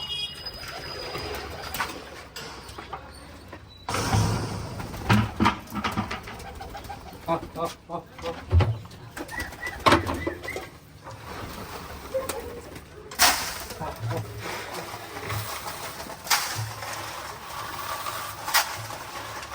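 Pigeons coo repeatedly at close range in a loft with chicks and eggs, their soft throaty calls rising and falling while a person talks over them.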